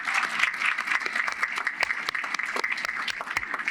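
An audience applauds at a high school graduation ceremony with dense, sustained clapping from a large crowd, loud and continuous over the whole stretch with no talking.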